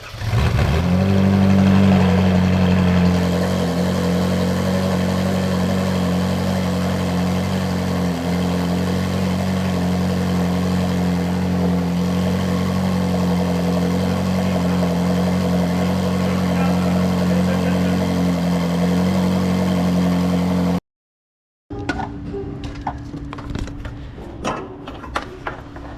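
A Ferrari 458 that has sat unused for a while, now on a new battery, fires up and settles into a loud, steady idle that hums on for about twenty seconds, then cuts off abruptly before quieter mechanical noises follow.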